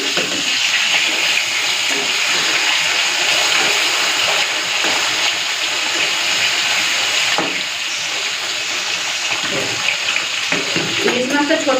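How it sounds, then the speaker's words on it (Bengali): Small hilsa fish frying in oil in a home kitchen, a steady, close sizzle and crackle that holds throughout with a brief dip near the middle. "ইলিশ মাছটা ভাজার জন্য বসিয়ে দিয়েছি"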